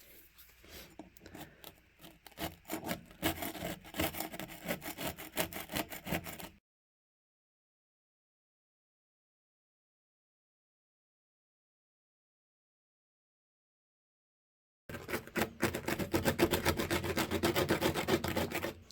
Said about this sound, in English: so I'm just using a small screwdriver just to get rid of the high spots of ballast here.